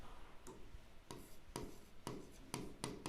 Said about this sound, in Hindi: इसके नीचे लिख रही हूँ